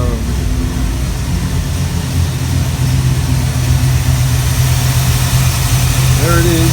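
An old truck engine idles steadily after an oil change, a close, loud, even low rumble that holds throughout while someone talks over it.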